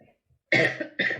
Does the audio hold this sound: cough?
yes